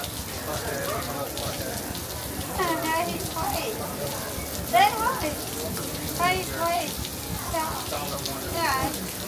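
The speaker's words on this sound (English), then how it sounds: "It's raining us out." Rain falls steadily at Epcot, a constant patter on surfaces heard up close, while people talk over it.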